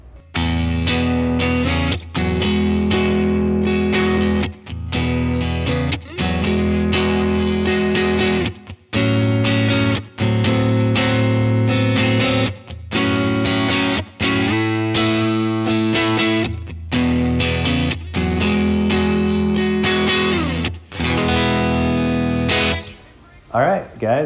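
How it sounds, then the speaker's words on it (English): A clean electric guitar on a Telecaster neck pickup, a Lambertones Blondie, plays sustained chords and melodic lines, warm and full, with brief gaps between phrases. "share my thoughts and some sounds from the perfect Tele pickup"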